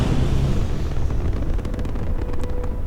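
A spaceship engine boost in the game Starfield, a steady loud roaring rumble that holds throughout with a faint crackling texture on top, heard alone.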